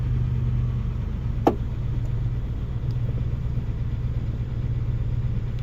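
A car engine idles steadily in neutral with the clutch pedal held down after its noisy throw-out bearing was greased, giving a smooth low rumble throughout and one brief faint tick early on, with no talking.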